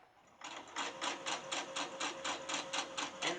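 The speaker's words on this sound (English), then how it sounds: "I'm going to do a little back stitch here." A sewing machine runs in a steady, rapid burst of evenly spaced stitching pulses while back stitching the fabric edge of a toddler pillowcase, heard close and alone.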